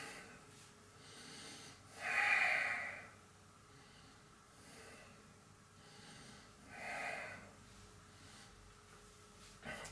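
Slow yoga breathing is heard as two long, airy breaths close to the microphone, each rising and fading gently, separated by quiet pauses.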